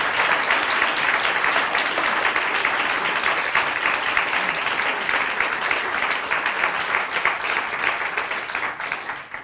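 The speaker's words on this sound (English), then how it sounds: "Let's give a nice round of applause" Audience applause for a panel at a bilingual CBC/Radio-Canada annual public meeting, a dense steady wash of many hands clapping for about nine seconds, easing slightly at the end, with no talk over it.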